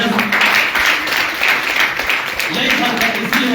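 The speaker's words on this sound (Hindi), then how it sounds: "ताली बजाओ जबरदस्त।" An audience at a direct-selling business seminar applauds in a dense, continuous patter, with a voice carrying over the clapping throughout.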